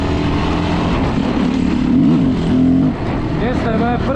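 A Yamaha WR450F dirt bike, freshly back from repair on its first ride of the season, runs with a wavering engine tone that climbs in a short rev near the end, a voice present over it.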